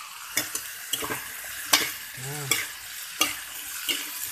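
Chayote and softened tomato sizzle in a pan as a utensil stirs them, giving a steady frying hiss with about eight distinct scraping strokes and a short tonal squeak midway.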